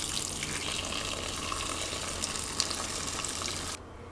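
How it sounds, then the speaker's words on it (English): Chicken bone broth strained out of a pressure cooker gives a steady close pouring gush of liquid that runs without a break, then drops off near the end with a small clink. "So now it's time to strain the bone broth."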